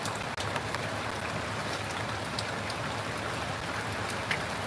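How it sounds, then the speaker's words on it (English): Steady rain falls outdoors by the seaside, a dense, even hiss of drops pattering on surfaces throughout, fairly close and unbroken, with no voices over it. "I don't care about the rain."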